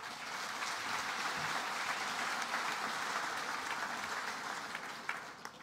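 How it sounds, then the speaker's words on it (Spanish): Sustained applause from an audience at a coffee growers' agreement signing event with the regional government, steady clapping from many hands, moderately distant, with no speech over it. "les demos un aplauso por estar acá"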